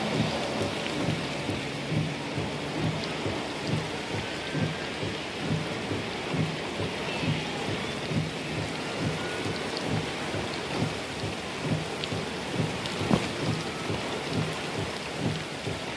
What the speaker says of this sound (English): It's shrouding in rain now.